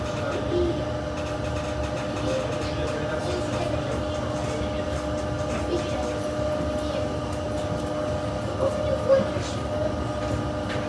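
A train pulls slowly into Porto San Paolo station in Rome, with a steady low rumble, faint squeals and clicks from the wheels, and scattered background voices.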